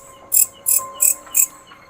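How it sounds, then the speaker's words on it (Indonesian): Crickets chirp in four evenly spaced bursts, shrill and fairly close, beside a large tree at night, over a quiet background with a faint steady hum. "Suaranya jangkrik."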